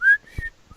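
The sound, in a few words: person whistling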